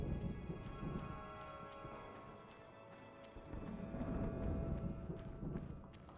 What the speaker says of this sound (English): It's a dry thunderstorm now, is it?